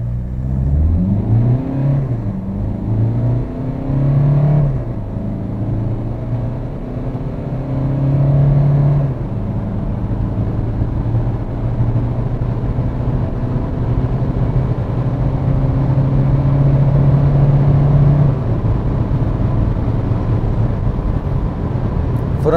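A Dacia Duster 1.5 dCi diesel with EDC automatic gearbox accelerates hard from standstill in drive mode, its engine note climbing and dropping through several gear changes over about twenty seconds, loud and steady inside the cabin with no talk.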